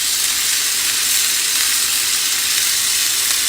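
Slices of cinnamon roll French toast fry in a skillet with a loud, constant, close-up sizzle that holds evenly throughout and has no talking over it.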